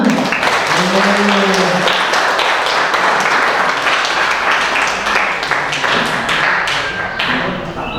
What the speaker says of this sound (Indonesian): sekarang tepuk tangan